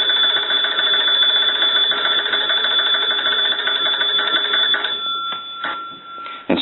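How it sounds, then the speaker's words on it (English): A Kellogg wood wall telephone is hand-cranked so its bell rings in a loud, sustained metallic jangle for several seconds, then breaks into a few scattered clangs before stopping. "Let's go ahead and crank the telephone."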